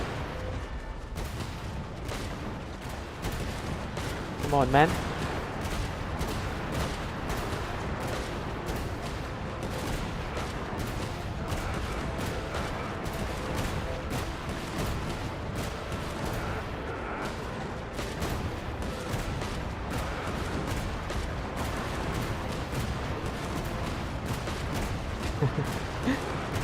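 Cannon fire in Genshin Impact: dense, repeated booming bursts in a rapid rhythm over continuous game noise, with a brief louder blast and a voice speaking briefly.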